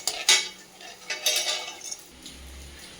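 A spoon scrapes and clinks against a pan of ghee as roasted cashews are scooped out, a few close metallic scrapes and taps over a quiet background, fading into a low steady hum near the end.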